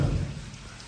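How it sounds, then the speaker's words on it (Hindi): Steady, heavy rain pours down on a village in Pakistan in a dense, continuous wash of noise with no voices, heard up close. "बारिश फिर तेज़ हुई है"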